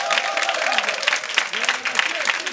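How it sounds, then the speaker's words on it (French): An audience claps for a guest being introduced, a lively ripple of applause with a voice speaking over it. "On peut l'applaudir."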